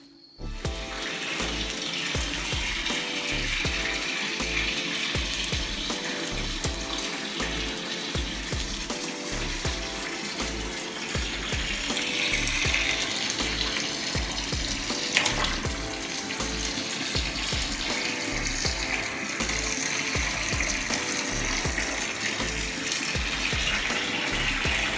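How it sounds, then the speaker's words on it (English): Tap water pours steadily into a bathtub for a bath upstairs, a continuous close rushing splash with a faint rhythmic low pulsing underneath and no voices. "So I have decided to come on upstairs and take a bath"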